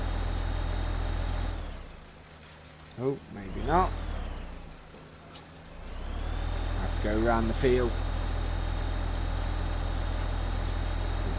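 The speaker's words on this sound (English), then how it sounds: "let's get the tractor out of the way" A tractor engine in Farming Simulator 15 drones steadily, dipping low in the middle while someone speaks over it, then swelling back to a loud, continuous rumble.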